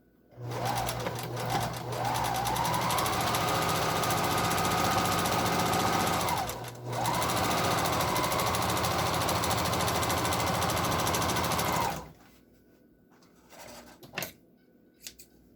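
A sewing machine stitches together N95 face mask parts in a long steady run, briefly pausing once before resuming, then stopping with a few faint handling clicks afterward.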